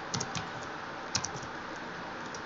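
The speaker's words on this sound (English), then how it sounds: "I swear I'm good at typing." Rapid typing on a computer keyboard during an Among Us game session, with quick irregular clusters of key clicks that are close and fairly quiet, no voices.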